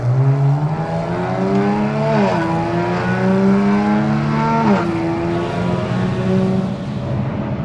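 A Kia Stinger's engine revs loudly and steadily, its deep exhaust note rising and dipping as the throttle changes, close by with no talking.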